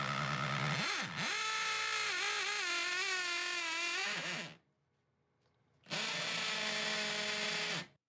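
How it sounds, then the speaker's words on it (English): A drill bores a hole into the concrete of a porch wall for a Tapcon anchor, giving a loud, wavering high whine that runs for about four seconds, stops briefly, then starts again for a second burst. "drilling into the concrete does get very loud"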